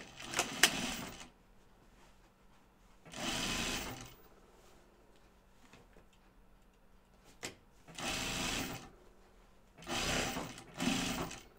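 Sewing machine stitching canvas runs in four steady bursts of rapid mechanical clatter, each a few seconds long, separated by quiet pauses with faint handling noises.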